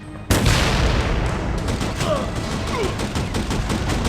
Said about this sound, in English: Enemy fire is too heavy